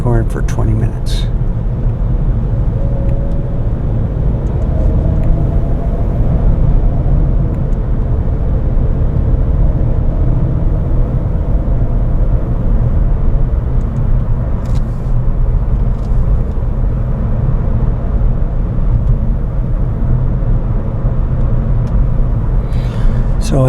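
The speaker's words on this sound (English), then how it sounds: "So as I keep going, there'll be less and less traffic." Steady road traffic rumbles past outdoors in a loud, continuous wash of low engine and tyre noise, with someone talking over it throughout.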